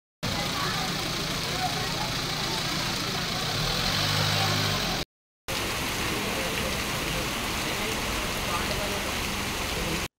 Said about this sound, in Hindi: झमाझम बारिश से शहर तरबतर